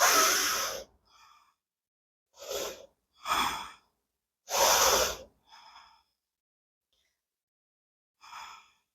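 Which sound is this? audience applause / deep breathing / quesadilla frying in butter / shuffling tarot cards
deep breathing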